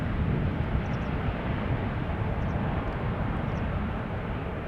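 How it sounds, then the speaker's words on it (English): A KLM Boeing 777-300 airliner arriving at Schiphol from Cape Town gives a steady, fairly loud broadband jet roar that holds evenly throughout, with no other sounds standing out. "That was KLM flight 598, arriving from Cape Town, 777-300"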